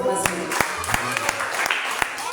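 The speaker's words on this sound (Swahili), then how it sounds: "Pia Yesu makofi mazuri" A church congregation claps in steady rhythmic unison, sharp hand claps repeating roughly three times a second under a voice and tonal sound.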